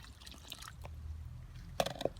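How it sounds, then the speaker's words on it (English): Water poured into mud in a garden, a quiet gurgling trickle with soft bubbling and a couple of sharper drips near the end, close by and faint. "Okay, so I'm going to pour some water in here."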